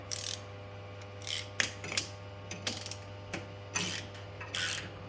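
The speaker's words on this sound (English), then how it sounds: "My little cheapy socket set, but it does the job for me." A cheap ratchet from a small socket set works loose a plumbing fitting in several short, separate bursts of rapid clicking, close up with quiet gaps between strokes.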